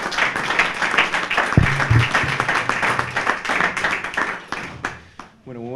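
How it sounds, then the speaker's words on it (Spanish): An audience at a libertarian party seminar applauds a speaker with sustained, dense clapping that is loud and close. A few brief voices and a single tone rise near the end as it fades. "Le damos un fuerte aplauso a Eugenio Guerrero."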